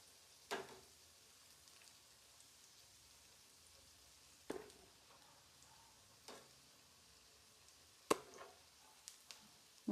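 Chicken nuggets frying in hot oil give a faint, steady sizzle, broken by a few sharper pops and crackles spread unevenly through the stretch.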